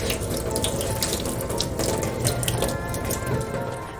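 Red beans being rinsed under a running kitchen tap, a steady close rush of water splashing into a sink that holds evenly for the whole stretch.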